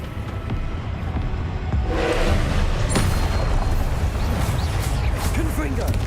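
Confringo blasting spell explosions in Hogwarts Legacy, heavy booming blasts and crashes with a sharp crack near the middle, loud and dense, under a player's voice.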